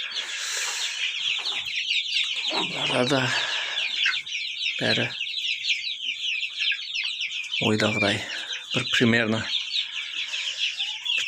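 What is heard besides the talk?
chicks and roosters in a poultry coop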